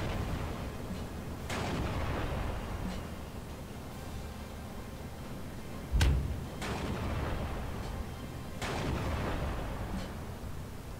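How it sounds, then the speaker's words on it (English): Light howitzer artillery in the video game Steel Division 2 booms out in several separate sharp blasts spread across the stretch, one heavier and closer than the rest, over a steady bed of battlefield noise. "artillery using my howitzers."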